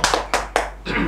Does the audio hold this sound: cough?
no